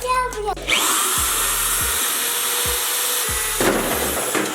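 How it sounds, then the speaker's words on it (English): A power drill bores out rivets holding the fuel door on a Toyota Tacoma bedside, a loud, close, sustained high whine that cuts in and out in several bursts with a grinding edge. "now I need to drill out these rivets so I can get this fuel door off."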